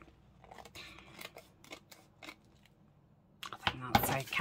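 Scissors snip through vellum paper in a series of short, crisp cuts, close and quiet, with a louder rustling snip at the end and a person talking softly alongside.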